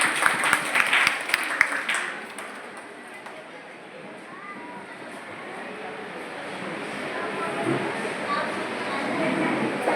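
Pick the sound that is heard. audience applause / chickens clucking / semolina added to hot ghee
audience applause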